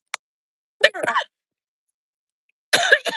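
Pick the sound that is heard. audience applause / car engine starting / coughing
coughing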